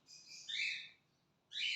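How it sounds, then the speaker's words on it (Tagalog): Pet cockatiel named Coco chirping indoors: two bursts of bright, high tweets, a longer call followed after a pause by a second, close and fairly loud, with no talking. "ang ingay talaga ng ibon. Pasensya na po. Well, that is Coco. My cockatiel bird."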